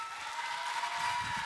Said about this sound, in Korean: 여러분 큰 박수 부탁드립니다.